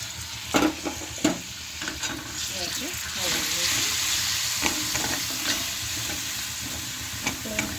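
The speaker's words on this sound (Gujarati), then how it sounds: "ટમેટાની ગ્રેવી નાખી દઈશું" Tomato gravy poured into a hot pan with spices for a moong curry, sizzling loudly while a spoon scrapes and knocks against the pan in irregular strokes.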